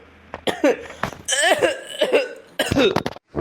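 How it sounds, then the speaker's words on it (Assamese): A person coughs repeatedly in rough, close bursts, with throaty clearing between the hacks. "ইমান কাহে ধৰিছে মোৰ।"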